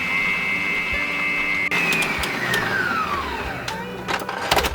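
An electric mixer whirs steadily while blending boiled condensed milk with cream into a cake cream, its whine sliding lower in pitch toward the end, with some clatter and faint background noise.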